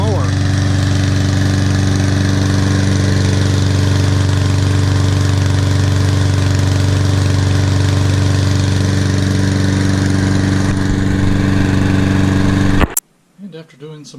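A Toro Personal Pace 20372 walk-behind lawn mower with a 159cc OHV engine runs at a steady, loud idle close by, holding an even drone before cutting off abruptly near the end.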